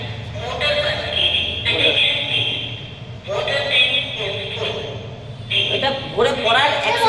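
A water tank full alarm in a newly built house sounds a steady, shrill electronic tone in repeated bursts, with voices speaking over it throughout.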